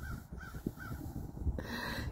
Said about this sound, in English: speaking your crow language